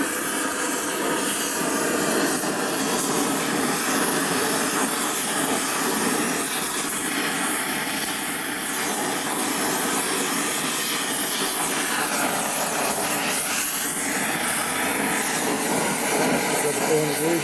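A long, steady hiss and sizzle of something searing on a hot motorcycle engine flywheel part, bright and close, running continuously with faint fluctuations and no clear talk.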